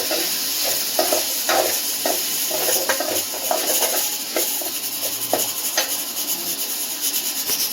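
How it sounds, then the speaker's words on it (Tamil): Onions and tomatoes sauté in a pan with a loud, continuous sizzle and rhythmic scraping stirs of a spatula close by, with no speech. "வெங்காயம் வதங்கினதும் இப்போ நம்ம தக்காளி சேர்த்துக்கலாம். தக்காளி நல்லா வதங்கட்டும்."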